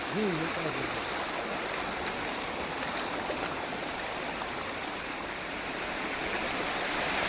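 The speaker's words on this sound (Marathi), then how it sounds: "इथं पण एक पाणी कंटिन्यू येतं बघा" Water flowing continuously from a spring at Lonar Lake in Maharashtra, a steady, unbroken rushing close by.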